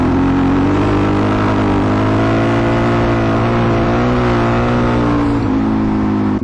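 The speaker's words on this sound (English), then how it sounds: "Now I'm going to wait for this car to pass." A car passes on a rutted road with a steady, loud engine and tyre roar that holds for several seconds, close by, with no voices over it.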